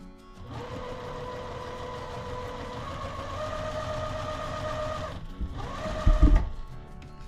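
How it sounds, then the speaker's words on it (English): A sewing machine stitches quilt pieces a quarter inch from the edge. The motor whirs steadily and close for about five seconds, pauses briefly, starts again for a shorter run, then fabric is handled. "Now we are going to go and sew 1/4 inch down both sides."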